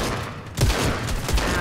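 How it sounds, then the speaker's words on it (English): Rapid gunfire from several players in a Fortnite match, a burst of loud overlapping shots crackling in quick succession, close and dense. "The whole lobby is just shooting at me."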